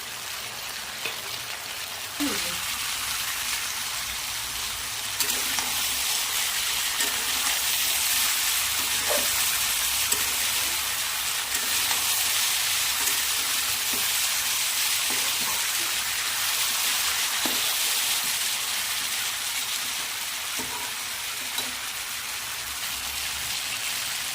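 Chili and coriander powder frying and being stirred in a pan, a steady rain-like sizzle holding throughout with faint scraping touches, close and even, no talk.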